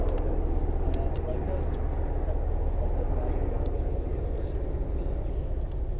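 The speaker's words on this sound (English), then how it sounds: "Ooh, helicopter." A steady low rumbling drone fills the whole stretch, like a helicopter passing at a distance, with a voice faintly mixed in.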